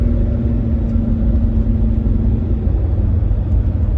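A Land Rover Discovery, a field find just back on the road after its MOT, drives along steadily with a continuous low engine and road rumble, close and even throughout, with no talk.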